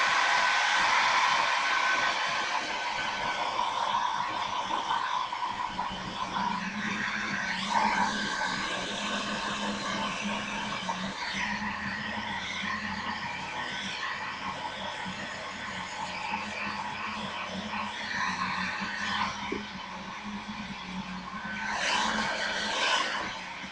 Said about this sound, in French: donc on va se sécher les cheveux